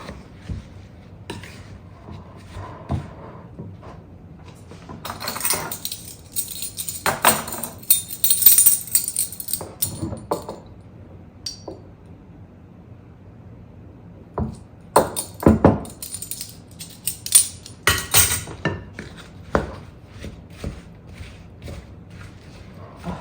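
Chunks of apple tossed with vanilla in a bowl for Thanksgiving baking, giving two loose bursts of clattering, knocking and scraping against the bowl with quieter stretches between.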